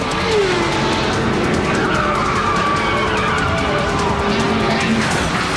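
A race car at the Autodome circuit in Buenos Aires skids hard through a hairpin turn, with loud, sustained tire squeal and engine roar close by, though no distinct impact stands out.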